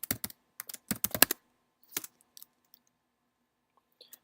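Keys clatter on a computer keyboard as a command is typed to untar a Centrify Server Suite package, a quick burst of close clicks followed by a few sparse, isolated keystrokes and then quiet.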